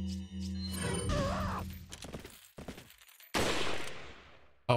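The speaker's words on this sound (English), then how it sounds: "use one of my 7 flash grenades" A flash grenade going off in Resident Evil 4, a sharp loud bang followed by a bright hissing burst, with gunfire-like crackles and a second abrupt blast at the end, no talking.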